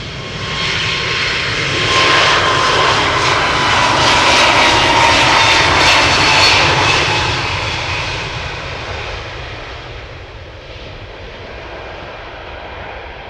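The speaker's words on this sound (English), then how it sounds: "JetBlue to Boston, up next," JetBlue Airbus A321neo departing Amsterdam Schiphol for Boston, a loud close engine roar swelling to a peak midway, then fading as the jet climbs away.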